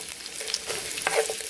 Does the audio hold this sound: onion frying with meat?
yes